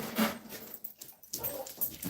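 A dog whimpers faintly indoors with soft, thin whines that come and go over a low room background, quiet and somewhat muffled.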